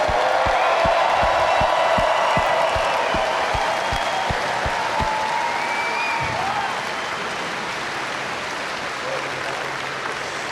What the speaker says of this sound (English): Give a round of applause for Tom Stoltman.